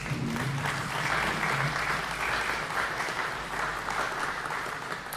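An audience at a public event breaks into dense, sustained applause that stays loud and even across the whole stretch, with a faint voice at the start.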